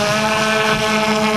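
An aircraft engine runs loud and close during a throttle run-up, a steady humming drone with strong tonal whine and a windy rush throughout.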